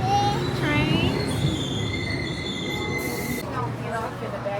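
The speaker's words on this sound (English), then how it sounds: "Trains." An Amtrak passenger train rolling along the tracks, heard from onboard as a steady loud rumble with high, wavering wheel squeals rising over it.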